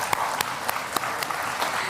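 A crowd claps at a political event on a nationwide economic opportunity tour; loud, continuous applause with a few sharp, distinct claps standing out above the mass.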